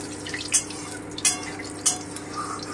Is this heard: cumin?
yes